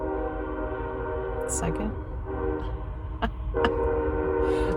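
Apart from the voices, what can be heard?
passing train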